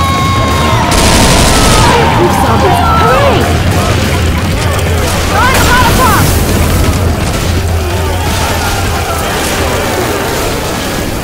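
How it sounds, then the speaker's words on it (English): In Left 4 Dead 2, heavy gunfire and booming blasts from a thrown pipe bomb fill the scene, loud and close, with rapid shots and bursts layered over continuous chaotic battle noise and shouted voices. "Throwing a pipe bomb!"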